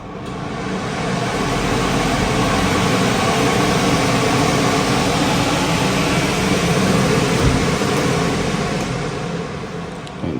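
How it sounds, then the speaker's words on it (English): A kitchen range hood exhaust fan runs steadily over a built-in gas stove, giving a loud, even broadband whoosh that holds constant throughout with no voices. "we have this hood exhaust"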